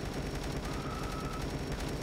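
Gunfire rattles in the Dead Ahead: Zombie Warfare video game, a dense, continuous burst of rapid shots at steady volume, with a short tonal game sound in the middle and no voices.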